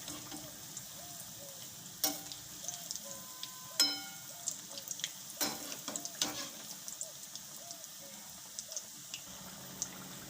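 Roti patra, rolled flatbread rolls, shallow-fry in a pan and are flipped, giving a soft, steady sizzle close by, punctuated by sharp clicks and knocks from turning them.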